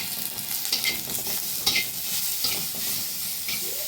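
Onions frying in a little oil with salt in a pan for a mashed vegetable dish, giving a steady close sizzle with occasional stirring scrapes throughout, no voices.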